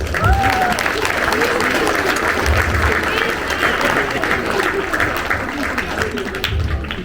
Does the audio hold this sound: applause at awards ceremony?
yes